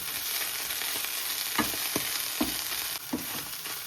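Tuna and chana dal masala vadas frying in hot oil give a steady, close sizzle, broken by a few soft stirring or turning clatters.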